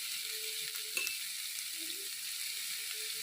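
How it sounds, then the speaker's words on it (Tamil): Chopped carrot and capsicum sauté in a pan for poha upma, giving a steady, close hiss of sizzling oil throughout with a faint clink of stirring. "கேரட், குடமிளகாலாம் பச்சையாகவே சாப்பிட்றதா, அதனால் கொஞ்சம் நேரம் வதங்கினா போதும்."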